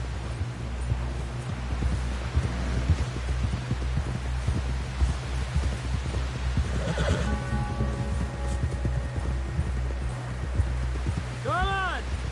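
A horse whinnies and its hooves clop along in a Wild West video game, while game characters talk over low rumbling background sound, and a final neigh rises clearly near the end.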